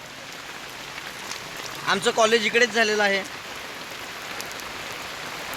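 Rain falls steadily outdoors, a soft continuous hiss throughout, while one person speaks briefly midway.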